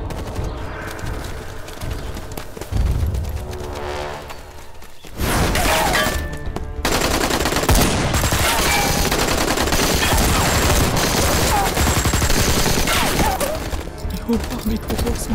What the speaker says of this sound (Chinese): 矿场那边好像有枪声，